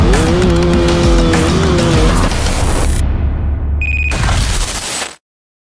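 A Yamaha F1ZR two-stroke motorcycle fitted with a large PWK 34 carburetor revs hard on a dyno, a loud continuous engine roar that wavers in pitch, drops briefly, then surges again before cutting off.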